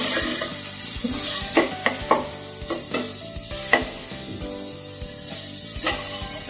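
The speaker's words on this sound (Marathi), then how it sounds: "व्यवस्थित मिक्स करून दिलं." Dal khichdi mixture with kasuri methi is stirred in a pan, giving soft scraping and scattered clinks of the spoon against the metal over a faint sizzle, with no voices.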